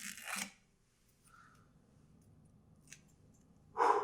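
A lid seal is peeled and torn from a Gordon & MacPhail Strathisla 1960 Speyside whisky bottle: a short, close tearing rasp, a quiet stretch with a faint tick, then a sharper rip at the end. No one speaks.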